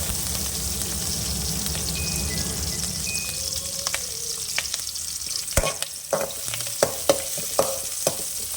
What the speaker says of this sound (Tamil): மிளகாய், கருவேப்பிலை எல்லாம் போட்டுக்கலாம். போட்டு கிளறி விட்டுக்கலாம்.